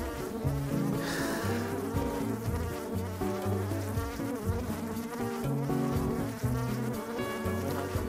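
Honey bees buzz inside a beehive, a dense, continuous droning hum that holds steady throughout with no voices.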